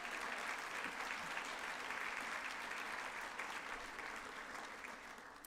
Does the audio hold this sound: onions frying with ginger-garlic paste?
no